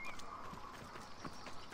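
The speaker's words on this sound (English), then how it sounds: "Hey, dumb horse." Horse hooves clip-clop in Assassin's Creed Odyssey, a quiet irregular series of soft hoof thuds under a faint game ambience.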